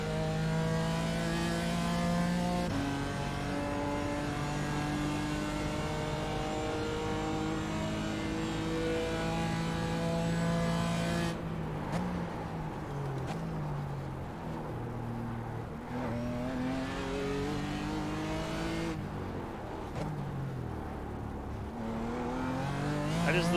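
A GT4 race car in iRacing at Long Beach roars down the straight, its engine climbing steadily in pitch through the gears with brief dips at each upshift, loud and close throughout with no talking.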